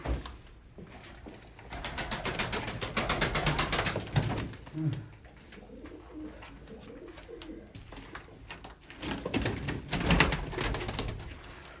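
Pigeons cooing inside a loft, soft repeated throaty coos with occasional wing flutters and rustling, close by and continuous at moderate loudness.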